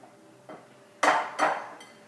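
An egg cracks against a bowl in a home kitchen while chocolate crepe batter is being made, giving a few sharp, close taps and clinks in a quiet room.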